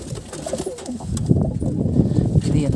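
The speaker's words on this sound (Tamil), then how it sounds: "இந்த கூண்டில் இருந்த புறா." Caged pigeons coo in low, repeated throaty calls, close and steady for a few seconds, with some background rustle and faint voices.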